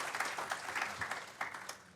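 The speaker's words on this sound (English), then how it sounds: "Let's give another round of applause for Kassandra and" Applause from an audience at an evening drug war conference at FAMU, honoring Kassandra and Ken Williams; a short, moderately quiet burst of scattered clapping with uneven peaks.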